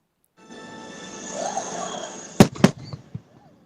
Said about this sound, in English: I always love those fireworks from the edges.